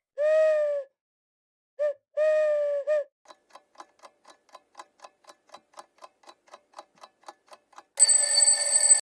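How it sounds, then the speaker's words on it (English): A few tonal owl hoots, two or three short calls close together, followed by a steady run of quiet ticking and then a loud bright ringing burst. "It's an owl."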